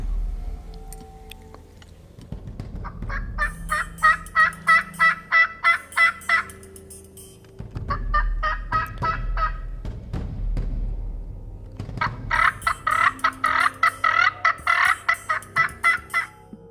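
Wild turkey gobblers gobble in three loud bursts of rapid, rattling calls, separated by short pauses, with faint outdoor background and no voices.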